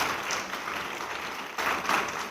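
A university student audience claps together in a hall, giving a dense, steady wash of applause that swells slightly near the end. The clapping is moderately loud and heard without speech.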